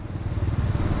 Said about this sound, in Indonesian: ini suka nyangkut nih gasnya, jadi jalan sendiri ini ngegas